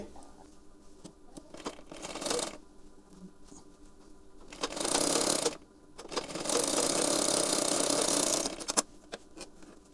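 A sewing machine stitches a 32-inch katori blouse in loud, steady runs of rapid mechanical whirring, with a short burst early on and two longer sustained passes later, separated by quieter handling sounds.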